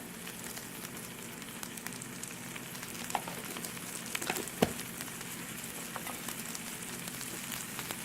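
Prawns seasoned with coriander powder fry in a pan for a prawn dopiyaza in coconut milk, giving a steady close sizzle with a few soft tossing scrapes partway through.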